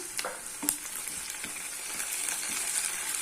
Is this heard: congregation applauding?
no